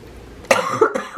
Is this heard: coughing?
yes